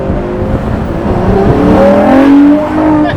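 A Ferrari 812 GTS V12 engine revs loudly and close, its pitch sweeping up through a rising snarl before easing off, with no talking over it.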